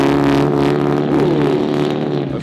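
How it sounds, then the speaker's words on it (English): Race cars including a Lamborghini Super Trofeo, Mitsubishi Evo and Audi drive on track at a hypercar and supercar event, a loud continuous engine drone with a rising rev as one car passes. "So race cars are going on track right now."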